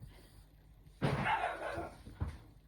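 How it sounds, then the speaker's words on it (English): Dogs fighting, a sudden loud burst of snarling and barking that breaks from near quiet, with a second short bark afterward, heard at moderate distance. "Dogs fighting."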